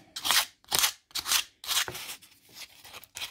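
Wet and dry abrasive paper rubs over leather pricking irons in quick, rhythmic scraping strokes, each a short rasping burst separated by brief pauses, close and fairly quiet.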